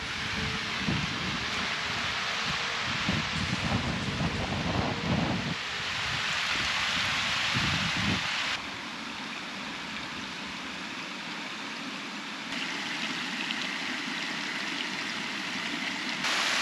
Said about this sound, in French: Ça va boire l'eau de la rivière.